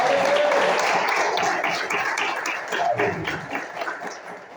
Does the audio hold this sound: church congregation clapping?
yes